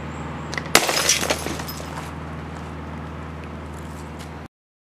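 A rubberless, Roman-style slingshot fires with one sudden sharp crack, followed by a brief rattling clatter that fades over a steady background hum.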